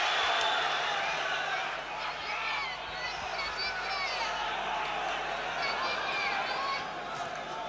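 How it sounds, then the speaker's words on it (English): At a WBA middleweight title fight between Mike McCallum and Michael Watson, an arena crowd keeps up a continuous roar with scattered whistles and shouts while a commentator talks over it. "Listen to the crowd. Tremendous support."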